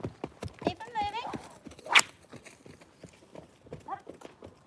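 A horse's hooves clip-clop in an irregular rhythm while it is worked and kept moving, with a trainer talking over the steps.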